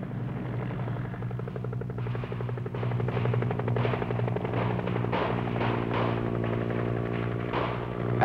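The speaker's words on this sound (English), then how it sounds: "An aggressor force manning a UH-1 hit the field undetected" A UH-1 military helicopter on a simulated attack at an air base runs steadily and loudly throughout, its rotor giving a continuous deep drone with a rhythmic chop and no voices.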